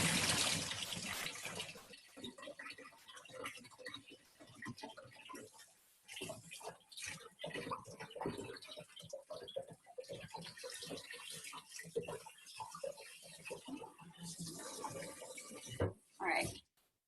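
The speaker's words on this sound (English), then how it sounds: "Stop the cooking process with some cold water." Cold tap water runs steadily over cooked eggs in a home kitchen sink, a continuous close splashing stream with occasional talk over it before it cuts off.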